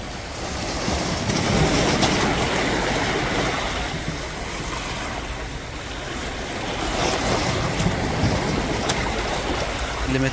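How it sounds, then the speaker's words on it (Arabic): Calm sea waves wash steadily onto the Alexandria shore in the early morning, a broad continuous surf rush with some wind buffeting the microphone. "البحر جميل والموجة هادية خالص، ما شاء الله."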